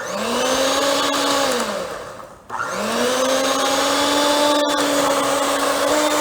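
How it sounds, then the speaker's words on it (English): An electric mixer creams butter and sugar for Jack Daniels banana pecan bread, a steady whirring motor hum that dips briefly as it slows and then runs on loud and close. "I've finished creaming my butter and sugar together"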